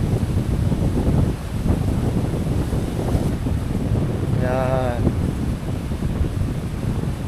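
Strong, steady wind roars and buffets the microphone at a beach campsite, with surf under it and a brief voice partway through.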